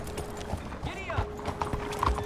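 Hooves clip-clop rhythmically as a horse gallops in Red Dead Redemption 2, close and steady, while a voice talks over the hoofbeats.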